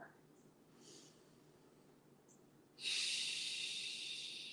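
Quiet breathing during a yoga cobra pose: soft, faint inhales and exhales in a calm room, closing with a longer, louder breathy hiss close to the microphone.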